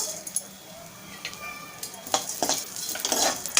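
Whole spices crackle and sizzle in hot oil in a pan for a Malvani-style rajma masala, with a few scrapes of stirring that grow busier and louder toward the end.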